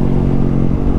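A big motorcycle's engine revs loud and close in a dense, rumbling roar that holds steady for a moment, with no talk.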